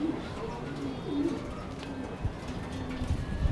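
Racing pigeons in a loft give soft, low repeated coos, several overlapping calls at close range over a muffled background with faint voices.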